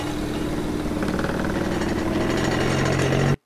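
A single-turbo BMW 335i engine tuned to around 700 horsepower runs with a loud, harsh mechanical rattle and a rough, continuous drone close by, then cuts off abruptly.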